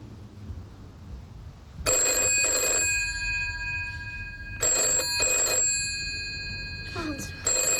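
An old-fashioned telephone bell rings in several loud, close bursts separated by short gaps over a quiet room, with a faint voice near the end.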